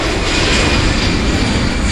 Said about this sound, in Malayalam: ഓ ഫ്ലൈറ്റ് പോകുന്നു